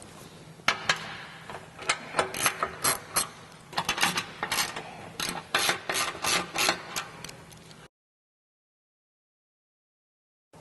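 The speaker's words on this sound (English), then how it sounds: "That is done by using a 13mm socket, and there's 5 bolts across the front and 2 in here." A hand ratchet fitted with a 13mm socket works loose the bolts on a bumper air dam, giving bursts of close, rapid clicking with short pauses between them, then the sound cuts off to near silence.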